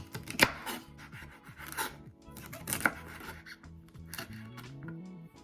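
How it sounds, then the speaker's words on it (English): Celery being chopped with a knife on a cutting board, a few crisp close cuts spaced irregularly, with soft scraping and handling between strokes. "I'm just going to just chop up this celery as well"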